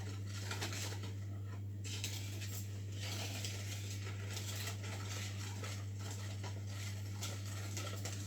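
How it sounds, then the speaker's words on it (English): Brownie batter is whisked in a bowl at home, giving a steady, quick patter of light taps and scraping against a constant low hum, with no talking. "And whisk that."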